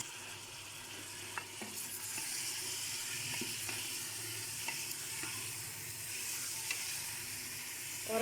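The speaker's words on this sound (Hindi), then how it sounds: "अब इसमें टमाटर शामिल कर दूँगी" Tomatoes go into a pan of sizzling meat and potato curry, aloo gosht, with steady loud frying hiss and occasional stirring scrapes throughout, no voices.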